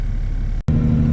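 Farm truck pulling off a field onto the road, a close steady engine rumble that briefly cuts out, then returns louder with a stronger low drone as it gets moving.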